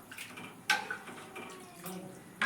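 Buttermilk and water poured into a pot of potato curry (mattha aloo), a soft splashing, trickling pour with a couple of brief louder splashes, close by and fairly quiet.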